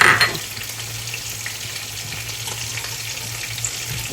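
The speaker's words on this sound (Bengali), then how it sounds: "এই দিয়ে দিচ্ছি একটু জিরা ফোড়ন" Cumin seeds tempering in hot oil for a vegetable curry, a steady close sizzle and crackle with a brief louder pop at the start, continuous and alone without voices.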